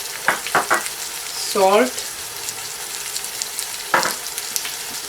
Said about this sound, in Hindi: अच्छी तरह इसको मिक्स कर लें